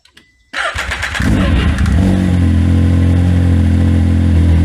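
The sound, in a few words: 2019 Can-Am X3 engine starting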